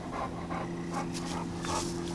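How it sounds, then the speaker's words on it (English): A dog pants rapidly and rhythmically close by, quick breathy puffs repeating without a break. "Guard dog for all the great cars here."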